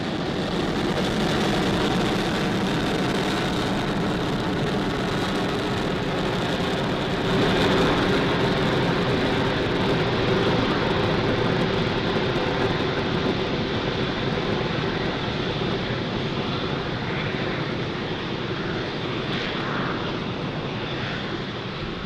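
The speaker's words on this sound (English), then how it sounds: "Falcon 9 has successfully lifted off from Pad 40 at Cape Canaveral Space Force Station, carrying yet again another stack of 60 Starlink satellites to orbit" Falcon 9 rocket lifting off from Pad 40 at Cape Canaveral Space Force Station with a stack of 60 Starlink satellites, a broad continuous roar and crackle that stays loud and steady throughout with no voices.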